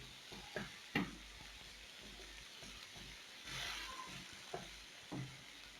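Hamburger patties frying in a pan with a soft, steady sizzle, punctuated by a few light clinks and scrapes of a utensil, fairly quiet and close with no talking.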